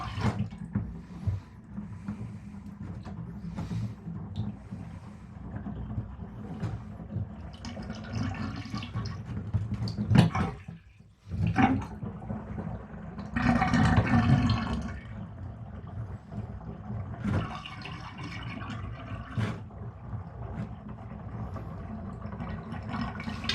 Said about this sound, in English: Now it's draining just fine.